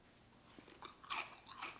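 Close, crisp crunching of shredded wheat cereal being chewed, several quick bites in an irregular rhythm, fairly quiet with no talking.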